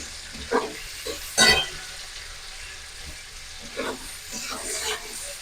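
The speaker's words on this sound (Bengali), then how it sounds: "এখানে প্রথমে আমি কুচানো পেঁয়াজটা দিয়ে দিলাম। পেঁয়াজটাকে একটু লাল করে ভেজে নেব।" Chopped onion frying in oil while making Bengali-style katla fish kalia, a steady low sizzle with a few louder stirring bursts, close by and alone.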